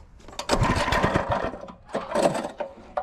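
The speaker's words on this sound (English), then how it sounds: "The rattling noise you're going to hear is from the tank moving around" A small mini bike engine fitted with a big cam, running rich at high revs with a loose fuel tank rattling, giving a buzzing rasp that dips briefly before roaring again, close and loud.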